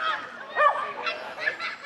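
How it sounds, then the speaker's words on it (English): A dog barks faintly down at Boscastle harbour on the North Cornish coast, a few short distant yaps in quick succession under the open outdoor air. "a dog down there barking."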